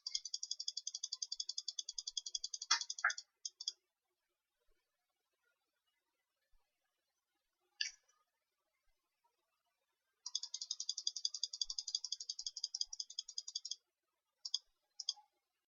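Computer mouse clicks come in quick, rapid bursts and a few isolated single clicks, fairly faint against near silence, with long pauses between the runs.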